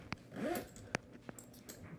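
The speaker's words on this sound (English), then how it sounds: "Oh, this zipper glides. Very nice zipper." The smooth-gliding zipper on a Mono Vertigo M80 61 keyboard carrying case is drawn open in a quiet, brief pull, accompanied by a few soft clicks and taps from handling the case.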